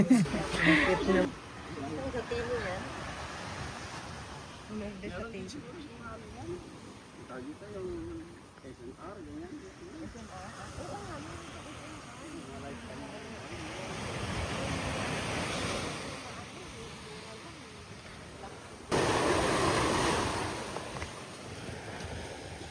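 Ocean waves wash ashore at high tide on Jomalig Island, a broad surging rush that swells and fades, with people talking over it.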